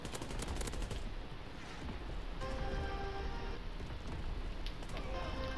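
An artillery barrage lands in Call of Duty WW2, a dense, continuous roar of rumbling blasts and crackling gunfire that fills the whole stretch without a break.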